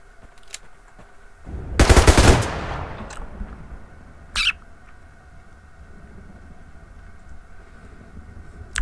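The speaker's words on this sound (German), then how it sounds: "Und da kam der Karabinerschuss." A carbine gunshot in the video game Survarium cracks out loud and close as a single burst near the start, with a quieter sharp report a few seconds later over low ambient game atmosphere.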